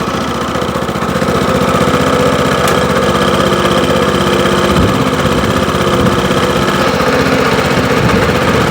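A WEIMA 1100-6 walk-behind tractor engine runs steadily, giving a loud, close, rhythmic thumping chug with mechanical clatter throughout and no speech.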